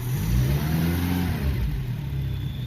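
Renault Le Car engine running just after starting with the choke used, a steady mid-pitched engine drone that swells slightly as it revs, close and continuous with no talk.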